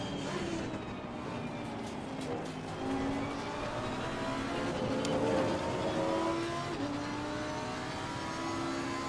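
Several GT4 race cars in Assetto Corsa Competizione running together in traffic at Imola, with steady engine drone and rising revs throughout, shifting pitch as the cars accelerate and pass.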